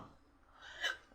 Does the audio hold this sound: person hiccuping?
yes